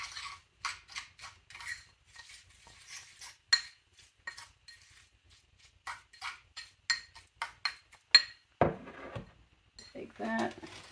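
A spoon stirs dry cracker crumbs in a bowl, giving close, irregular light clinks and scrapes against the bowl with brief pauses between strokes.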